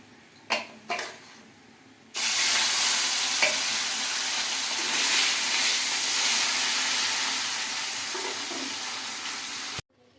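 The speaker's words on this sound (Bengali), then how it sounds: "বাকি যে মাছ দুটো আছে সেটা আমি ভেজে নেব" Katla fish sizzling and frying in hot oil in a pan, a loud steady hiss that starts abruptly after a couple of soft knocks and runs on evenly, with occasional stirring clatter, then cuts off.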